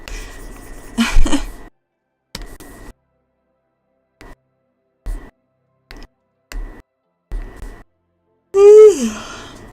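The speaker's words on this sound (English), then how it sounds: "I don't think my yawn would be that loud." A sleepy person lets out one loud, drawn-out voiced yawn near the end, its pitch sliding downward, after several seconds of short, scattered quiet sounds separated by silence.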